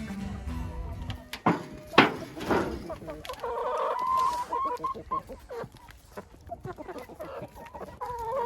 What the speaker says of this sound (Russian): У меня квочка с цыплятами.